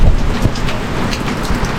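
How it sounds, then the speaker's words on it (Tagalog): Heavy rain falls in a dense, continuous roar of hiss and drumming with low rumble beneath, loud and close throughout, without voices. "Lakas na yung ulan."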